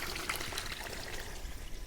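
Water runs and trickles steadily through a C3 Corvette radiator during a flush, a continuous near pouring wash with small splashy surges and no talk.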